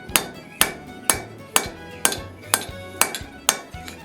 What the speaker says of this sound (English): you want to make sure that when you're hammering, you hammer approximately an even number on each side of the blade